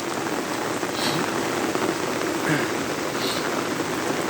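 Steady rain falling and pattering on surfaces, a dense continuous hiss with occasional louder drops.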